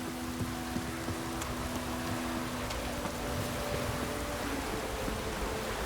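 Steady, soft rain falls in The Witcher 3 game world, a constant diffuse hiss with occasional faint droplet ticks, alongside a low sustained tonal hum, with no voices.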